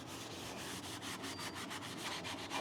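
Scrubbing a car firewall with a 300 Scotch-Brite pad during body work: a close, steady rasping rub in quick back-and-forth strokes with a regular rhythm, and no voices.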